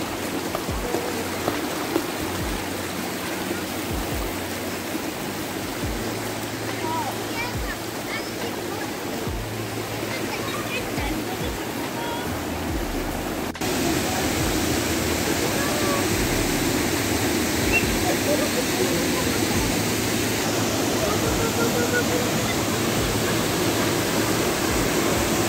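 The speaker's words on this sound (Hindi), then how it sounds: "the waterfall" Steady broadband rush of the Sajla waterfall in Manali, a continuous roaring wash of falling water that grows louder and fuller partway through, with no clear voices over it.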